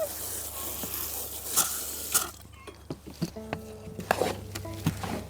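Water is sprinkled onto crumbly seed raising mix, giving a soft, steady pattering hiss with scattered small taps and knocks, close and fairly quiet.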